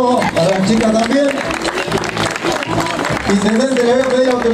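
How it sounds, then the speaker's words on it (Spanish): Audience applause and crowd noise at an outdoor sports award ceremony for a town anniversary, with an announcer talking loudly over the sustained clapping. "Fuerte el aplauso para la chica también."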